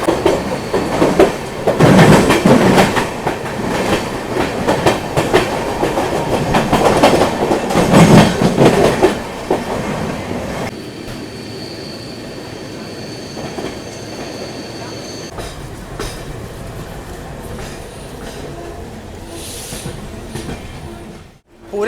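Deccan Queen Express rumbling along the rails on the Mumbai–Pune line, a steady loud roll with clickety-clack wheel beats that swell twice, then settles into a quieter, even hum as the train slows.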